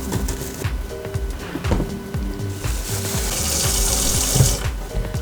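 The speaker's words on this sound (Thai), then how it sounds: "ใส่น้ำพอประมาณนะคะไม่ต้องใส่เยอะ" Water poured into a pot while cooking a Thai soup with small round Thai eggplants, a steady rushing splash with light clinks and knocks of kitchenware, close and fairly loud, growing fuller toward the end.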